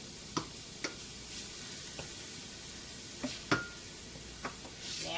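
Bell peppers, onions and garlic sizzling quietly in a pan, a soft steady hiss broken by a few sharp utensil taps and clicks as they are stirred.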